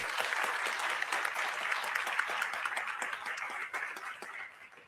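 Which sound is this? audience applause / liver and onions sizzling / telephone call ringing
audience applause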